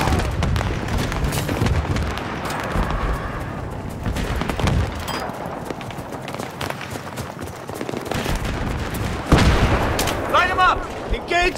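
Battlefield 3 combat gunfire: sustained shots and heavy booms rolling over eleven seconds, with shouted voices faintly mixed into the battle noise and a sharper burst late on.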